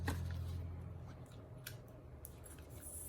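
Scissors trimming paper for cardmaking, with a few short close snips and rustles, fairly faint, over a quiet room.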